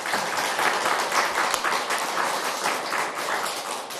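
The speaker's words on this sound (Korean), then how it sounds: "하나님 앞에 뜨겁게 박수로 영광을 돌리겠습니다" A church congregation claps warmly together, a dense, steady wash of hand claps with a loose rhythm that stays even and full for the whole span, with no voices on top.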